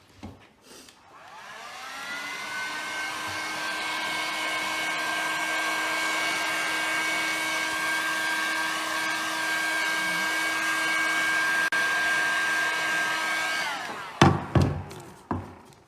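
A hair dryer blows steadily on a wooden craft piece with a loud, even whine lasting about twelve seconds, then cuts off into a few knocks and handling sounds.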